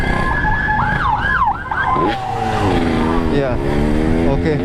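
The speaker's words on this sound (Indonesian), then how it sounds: "Ambulan." Ambulance siren wailing in rising and falling sweeps close by, heard from the road while riding a standard Yamaha RX King motorcycle fitted with a BOBAN C33 exhaust, with engine noise and voices over it.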